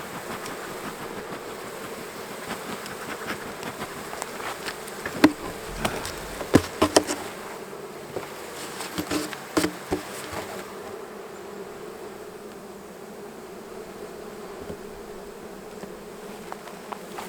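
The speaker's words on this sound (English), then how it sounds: "Smoke these bees so they go down" Honey bees swarm around an opened hive that is being smoked during a honey-production split. The buzzing is dense, steady and close, with a few sharper clicks and knocks from hive work, and no one talks.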